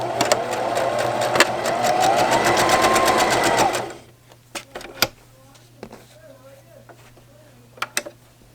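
A sewing machine stitches a seam in a flour sack towel, running steadily at close range for about four seconds before stopping, followed by a few faint clicks and handling sounds.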